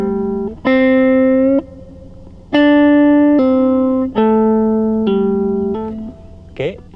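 A slow guitar solo, clean and loud, with sustained single notes and bends stepping between pitches, each note cut short by a finger stopping the string, followed by a brief muted scrape at the end.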